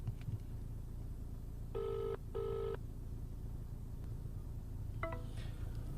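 A telephone rings twice in short electronic bursts during an outgoing call to a company, then a further tone sounds over a faint background hum.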